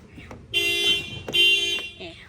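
A two-tone electronic car horn on a BMW battery-electric car honks twice in quick succession, close and fairly loud, with faint background noise around it.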